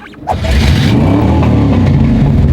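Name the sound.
car engine revving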